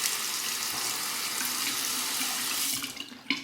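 Tap water runs into a sink to rinse a razor, a close, steady hiss of flowing water that breaks up briefly near the end.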